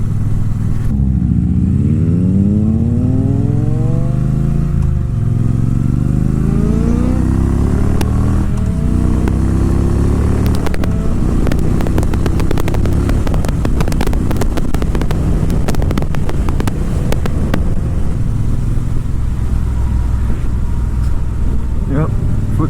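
A Triumph motorcycle, a Bobber Black or Street Triple RS, rides hard on backroads, its engine revving and shifting through rising and falling pitch under heavy wind buffeting, with a rider talking over it.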